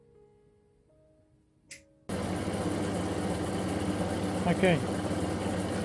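A grinding wheel used to shape a fused glass cabochon starts up suddenly and runs as a steady, loud whirring hum with a brief scraping change partway through; a voice speaks briefly just before it starts.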